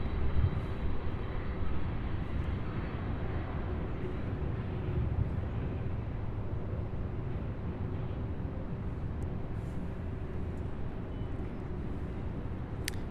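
A heavy UPS aircraft taxiing toward ramp 1 at Louisville's airport produces a steady, moderately distant engine drone that stays even in level throughout, with no speech.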